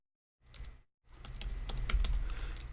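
A short, quiet flurry of computer keyboard typing, two quick bursts of key clicks separated by a brief pause.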